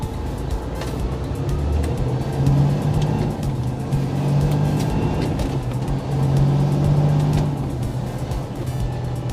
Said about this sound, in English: A little bit of traffic.